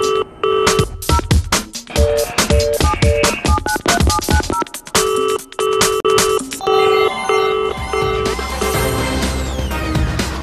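Telephone ringing on a Hindi business news channel's commodity phone-in show, a loud electronic bell pattern of repeated tonal bursts and chimes with no voices.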